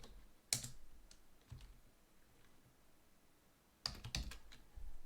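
A computer keyboard is typed on in two short bursts of clicking keystrokes, close and fairly quiet, separated by a pause of near silence.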